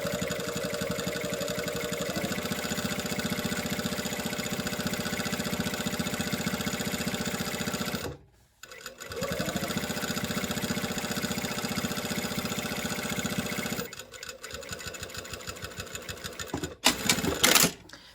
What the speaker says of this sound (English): we are just sewing right down the middle of this